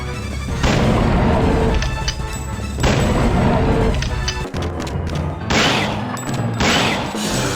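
Upgraded weapons and a shotgun fire in the video game Dino Crisis on Ibis Island, a series of loud, heavy booming blasts, several in succession, each followed by a brief mechanical clack, with no talking.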